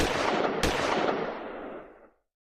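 Gunfire in a Hindi TV crime drama about the murder of a news editor: a dense, loud burst of shots with one sharp crack standing out, fading away over about two seconds.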